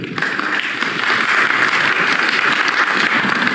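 Convention audience applauding an agricultural initiative, a continuous, moderately loud round of many hands clapping that stays even throughout.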